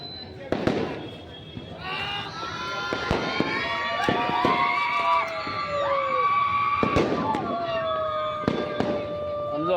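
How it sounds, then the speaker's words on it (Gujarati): Fireworks and firecrackers burst repeatedly on a festive night, sharp cracks punctuating whistling rockets that rise in pitch, with people talking and calling out over the popping throughout. "ઓલા ફટાકડા બધા નીચે ફૂટે"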